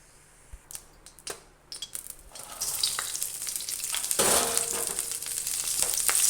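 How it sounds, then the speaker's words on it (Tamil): Chopped banana flower sautéing in a pan for vadai, a few light clinks at first, then a steady bright sizzle that swells and holds, close and alone. "இப்போ நம்ம வாழைப்பூவை வதக்கிக்கலாம்."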